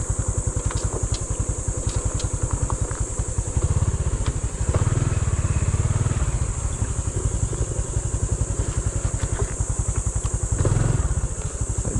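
A motorcycle near Bon Bon Beach in Romblon chugs with a steady, close, rhythmic engine pulse, idling and throttling slightly throughout, without talk.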